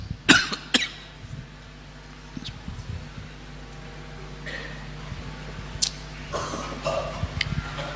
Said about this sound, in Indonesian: Siapa itu yang ikut batuk juga?